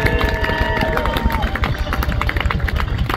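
An air show crowd cheers and claps loudly, a dense continuous roar of voices with scattered claps, as a parachute jumper comes in to land on the target.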